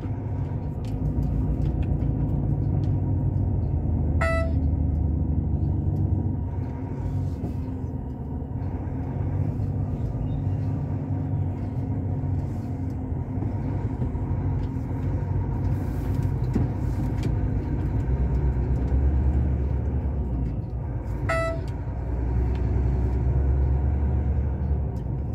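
Steady low rumble of road traffic around the Garanhuns bus station in Pernambuco, Brazil, with engines idling and passing at moderate distance and a couple of brief high tonal squeals, likely brakes, standing out; nobody speaks.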